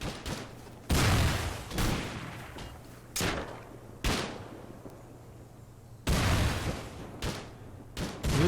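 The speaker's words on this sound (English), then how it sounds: "You'll notice a lot of fire back and forth between the defenders and the raiders." Gunfire volleys crack back and forth during a large clan raid in the video game Rust, with sharp bursts of shots spread out over several seconds and quieter gaps in between.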